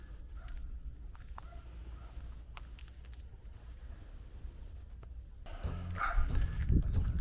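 Dogs bark back and forth at a distance in rural Portugal, scattered faint barks over a low outdoor rumble, with louder rustling handling noise near the end.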